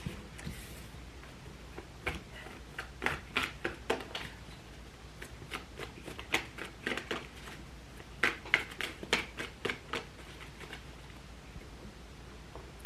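Soft, rapid flicks and taps of tarot cards being shuffled, coming in irregular clusters over a quiet background hiss.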